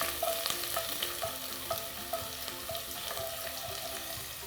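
Ginger and green chilies stirred in a hot oiled pan for a cranberry pickle, a spoon scraping in a steady rhythm of light clicks over a continuous soft sizzle, close and alone.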